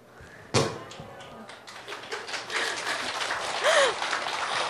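An audience at a Saturday Buddhist temple service breaks into applause, starting with a sharp clap and building into sustained, moderately loud clapping, with some voices mixed in.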